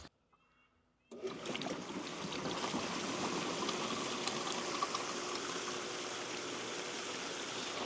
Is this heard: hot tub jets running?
yes